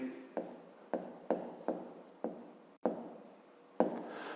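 Pen or pencil writing out a rectangle perimeter and area solution for a fifth-grade maths exercise: a series of short scratchy strokes, roughly eight bursts at an irregular pace, close and fairly quiet, with no talking.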